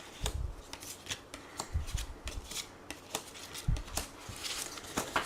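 Tarot cards being shuffled by hand for a reading, with soft, rhythmic riffling and tapping bursts at close range that repeat in short clusters, with no talking.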